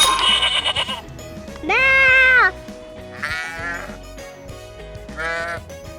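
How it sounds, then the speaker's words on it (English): Several sheep bleats ring out one after another, loud and nasal with quavering pitch, spaced apart by short pauses against a faint background. "That's a sheep."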